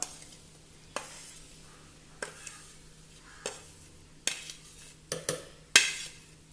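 A pan of asafoetida and urad dal powder stirred dry, about eight distinct spoon scrapes and taps against the metal at roughly one-second intervals, close and quiet with a faint background hum, growing a little louder toward the end.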